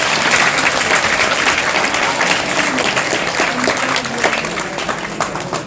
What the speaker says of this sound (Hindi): अरे वाह, तालियां बनती हैं।